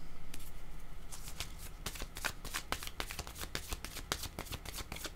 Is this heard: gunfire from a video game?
no